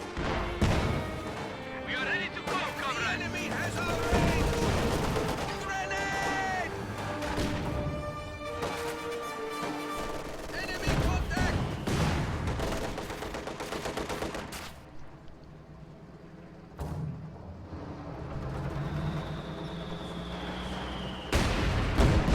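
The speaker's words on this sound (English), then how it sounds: "Field gun snipes a grenadier." A field gun fires during a Company of Heroes 2 match. Sharp booms and bursts of battle gunfire sound amid continuous chaotic combat noise, with a commentator talking throughout.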